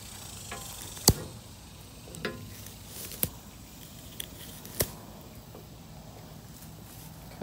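A Buck 110 Slim knife slicing through material gives a handful of sharp, crisp snips spaced a second or so apart, close and clear over a quiet background.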